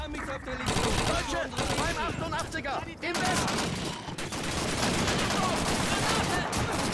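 BAR rifle fire in the Call of Duty 2 video game, with loud, dense bursts of shots and explosions continuing almost without a break, close and harsh.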